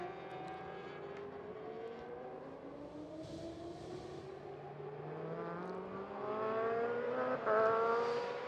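A Honda CBR 1000 RRR racing motorcycle howls around Sepang circuit, its high engine note heard from a distance, rising and shifting in pitch as it accelerates and climbs through the gears, growing louder toward the end.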